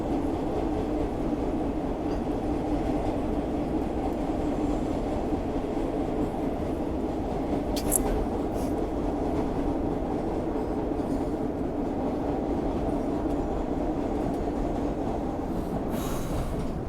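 Riding aboard a train: a loud, constant rolling rumble of the rail cars fills the whole stretch, with brief high wheel squeals cutting in partway through and again near the end.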